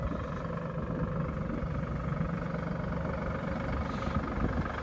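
A farm tractor's engine runs steadily at close range, a continuous low, even drone with a faint mechanical rattle throughout and no talking.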